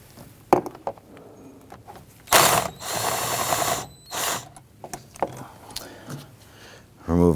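Ratchet socket wrench removing 10mm bolts from the air filter box of a 2011-2015 Kia Sorento, a few separate bursts of fast ratcheting clicks that are close and fairly loud, with short pauses between them.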